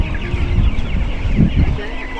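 Homestead chickens cluck close by in a busy, overlapping chatter with soft low rustling underneath, steady throughout the short stretch.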